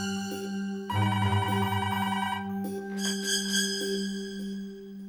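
A telephone rings in an office during a Hindi TV serial, with steady repeating electronic ring tones layered over music-like harmonics, loud and close, with no talk over it.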